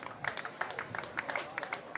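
Light, scattered applause from a small cricket crowd at a Derbyshire Falcons versus Worcestershire Rapids match, thin and distant clapping spread irregularly over a couple of seconds.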